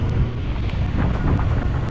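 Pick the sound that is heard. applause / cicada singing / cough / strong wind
strong wind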